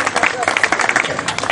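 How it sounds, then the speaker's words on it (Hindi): Audience applause at a local gathering in Amravati after a pledged donation is announced: a short burst of dense, steady clapping from a crowd, fairly close, with voices mixed underneath. "तालियां जरूर बजाइएगा।"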